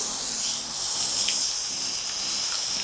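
A garden hose sprays water to rinse shampoo off a horse during a grooming wash, a steady close hissing spray that runs without a break and without talking.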